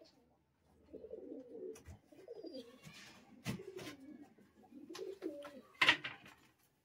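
Giribaj pigeons, small young birds held for sale, coo in soft repeated throaty phrases at close range. Occasional clicks and faint scuffling fall between the coos.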